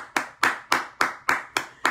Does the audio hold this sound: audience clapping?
yes